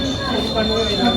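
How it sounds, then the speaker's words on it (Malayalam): The Okha–Ernakulam express passes near Bekal Fort in Kerala: a brief, loud, steady rail rumble topped by a sustained high wheel squeal, with a voice partly audible underneath. "നമ്മുടെ ഈ ഒരു ട്രെയിൻ സ്പോട്ടിങ്ങിൻ്റെ ലാസ്റ്റ് ട്രെയിനാണ് ഈ ഓക്ക എറണാകുളം"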